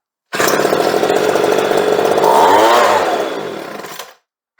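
A two-stroke leaf blower engine restarts and runs for about four seconds, a loud, buzzy near whine that rises in pitch and then falls away before cutting off.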